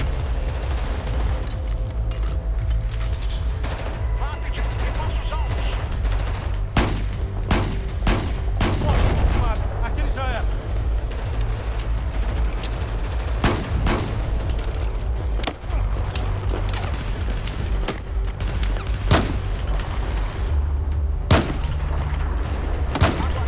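Heavy gunfire from the video game Battlefield 4: rapid volleys of shots and booming blasts over a constant low rumble, with dense bursts throughout and occasional louder single cracks.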